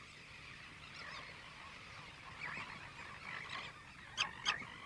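Royal terns and gulls call across a nesting colony on a desert island in the Gulf of California, with overlapping harsh cries over a steady murmur and a few louder squawks close by near the end.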